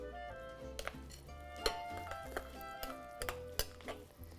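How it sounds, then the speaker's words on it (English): A spoon stirs a butternut squash mixture with grated Parmesan in a pot, giving scattered soft clinks and scrapes against the cookware, fairly quiet with short pauses between strokes. "I'm going to give this a stir to mix."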